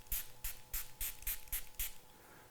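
Six quick, evenly spaced pumps of a spray bottle mist liquid onto a phone screen protector film for a Samsung Galaxy S24, each hiss crisp and close, followed by a quiet pause.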